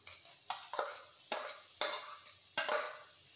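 Vegetables and grated garlic for pav bhaji sizzle gently in a pan as a spatula scrapes and stirs in about five distinct strokes, close and fairly quiet with no voices.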